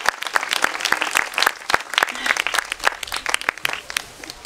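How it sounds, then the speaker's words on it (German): An audience at a street music festival applauds the cellist Caro, scattered distinct claps rising into a lively, uneven patter that stays fairly close and steady throughout. "noch einen herzlichen Applaus für die Caro am Cello heute"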